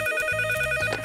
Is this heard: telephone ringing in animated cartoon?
yes